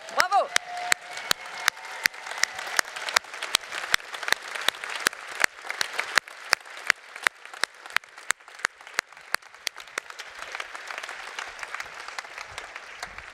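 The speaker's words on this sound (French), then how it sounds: "On s'applaudit." A group at a women's forum applauds itself after standing up. Sharp, individual claps ring out clearly over steady clapping from the crowd, while a voice is heard briefly at the start.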